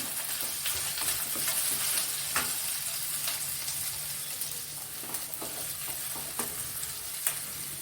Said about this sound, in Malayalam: കറി ലീവ്സ് കുറച്ചിട്ട്